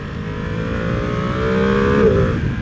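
A 2021 Ducati Panigale V2 sport motorcycle engine climbs in pitch under throttle, with a brief dip and rise near the end as it downshifts, loud and close.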